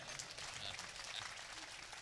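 An audience claps at a Hindi-Urdu poetry recital, a faint, distant wash of steady applause from a crowd, continuous throughout without clear speech.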